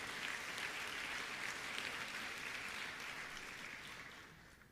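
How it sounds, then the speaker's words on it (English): Audience applause fills a hall at a Digital India and digital technology dinner in the US: a dense, steady wash of many hands clapping that holds for several seconds, then gradually fades out. "Please give them a round of applause."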